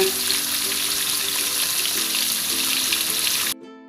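Gourami fish frying in hot oil gives a loud, continuous close-up sizzle with crackling pops, cutting off abruptly near the end.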